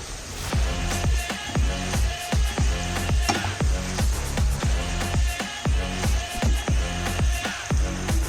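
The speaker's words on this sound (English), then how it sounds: "After adding the paneer, we need to be mixing this." Paneer being stirred into a thickened Manchurian sauce in a pan, heard as a steady sizzle with regular scraping strokes, loud and close.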